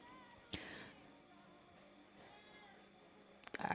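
Two brief cat meows, one near the start and a sharper one at the end, separated by a quiet room.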